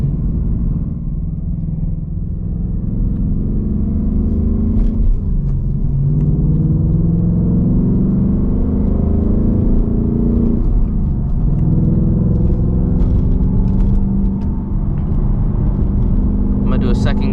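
An S650 Mustang GT on limited-traction tires accelerates hard through the gears, a loud, close engine roar rising in pitch with each pull and dropping at the shifts, sustained throughout with a voice talking over it.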